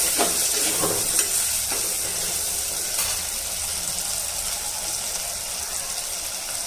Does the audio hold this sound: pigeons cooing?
no